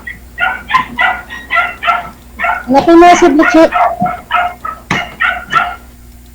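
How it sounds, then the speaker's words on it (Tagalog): Several dogs bark in quick, overlapping bursts throughout, close and loud, while a person speaks over the barking. "Daming aso."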